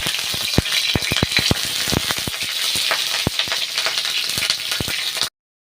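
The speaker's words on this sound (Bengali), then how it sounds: "পাঁচফোড়ন দিয়েছি আর তেজপাতা দিয়েছি" Panch phoron spices and bay leaves sizzling in hot oil, a loud close crackle full of rapid popping spits and rattling seeds that cuts off abruptly, with no voices.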